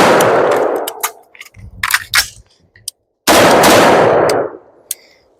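Rifle shots during a range training session: loud sharp cracks with ringing echoes, a rapid burst, then a few single shots and clanks of handling, then another loud burst.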